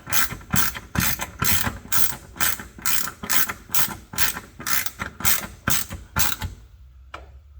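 Rapid, steady clicking of a socket ratchet working a fuel filter fitting on a Toyota Tacoma SR5, about a dozen even strokes close up, then stopping with a faint final click.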